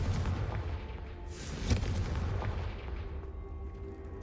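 A Confringo blasting curse explodes in the Hogwarts Legacy video game, a booming burst with a sharp crack in the middle, set over a steady rumbling game background.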